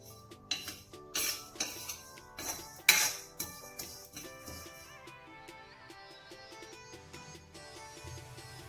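Roasted sesame seeds are tipped from a pan into a vessel in a home kitchen, with a series of sharp metallic clinks and scrapes that thin out into a soft rattle and ring.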